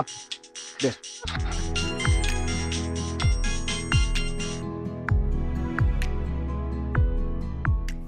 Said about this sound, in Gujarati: આ તો મમ્મીના ફોનની રિંગ છે યાર.